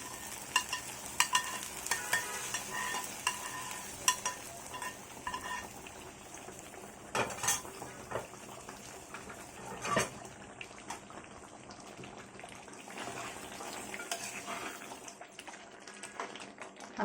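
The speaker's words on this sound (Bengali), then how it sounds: "দিয়ে দিচ্ছি বাগারটা মাংসের ভিতরে" Hot tempering oil poured over beef for kala bhuna, crackling in a busy, dense sizzle with scattered sharp pops and utensil clinks, loudest early and easing off toward the end.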